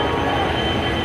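A special train running from Howrah in Kolkata to Ayodhya gives off a loud, continuous rumbling roar with a faint metallic whine above it, close by and steady throughout.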